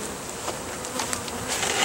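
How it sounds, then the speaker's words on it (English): Honeybees buzz steadily around an open hive while a beekeeper works on moving them out of a bag, a dense, close swarm hum holding for about two seconds and swelling slightly toward the end. "So I'm going to try to get the bees out of this bag."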